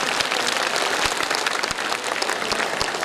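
An audience applauds at a birthday cake cutting ceremony, the dense, steady clapping of a crowd holding at an even level from start to finish.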